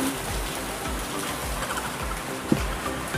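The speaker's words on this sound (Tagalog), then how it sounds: "Umuulan." Steady rain falls outdoors, an even hiss with soft irregular thumps throughout and one brief sharper knock near the end, with no talking.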